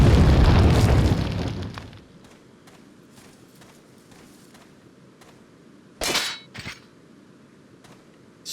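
A loud gunshot boom from the survival-horror game Resident Evil 4 fades into a quiet backdrop of faint ticks, followed a few seconds later by a second sharp burst.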